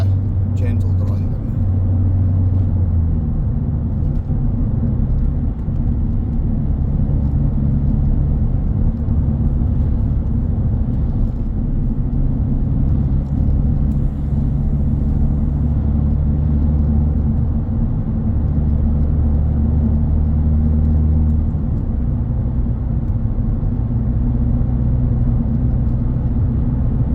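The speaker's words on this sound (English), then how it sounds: "Gentle driving." A car drives gently on a short local trip, its engine and road noise forming a steady low rumble that stays constant and close throughout.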